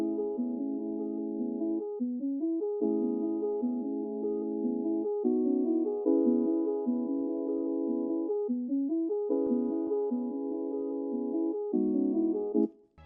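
A synth loop built from the Beat Sinner Synth Classic 21 preset plays a repeating chord pattern of sustained, bright tones in short phrases, steady and upfront with no voices, ending abruptly.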